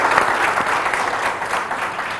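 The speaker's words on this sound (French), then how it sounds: "On peut applaudir ça." A studio audience at a French-language health quiz show breaks into sustained, dense applause, steady and fairly loud for the whole moment with no talking over it.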